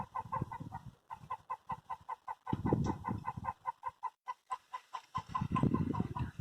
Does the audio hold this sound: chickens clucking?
yes